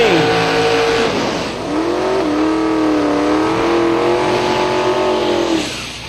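A limited street machine drag racing car at Silver Dollar Raceway, its engine revving loudly with a rising, wavering pitch as it launches, close and dominant before fading slightly at the end.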